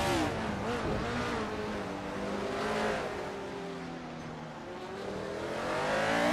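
A 1971 McLaren 19A race car engine at speed during a race, a high, harmonic whine that rises and falls steadily as it accelerates and holds revs, loud and close with no voices.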